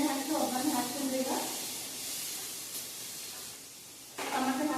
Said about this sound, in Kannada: ಇದು ಕರಿಬೇವು, ಸಾಸಿವೆ, ಹಸಿಮೆಣಸಿನಕಾಯಿ, ಎಣ್ಣೆ ಹಾಕಿ ಒಗ್ಗರಣೆ ಹಾಕ್ತೀನಿ ರೀ.